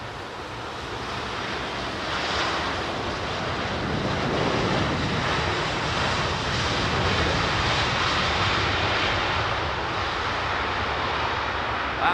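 An Air India airliner in special livery passes with a loud, sustained engine roar that builds after a couple of seconds and stays strong, mixed with gusty wind noise on the microphone.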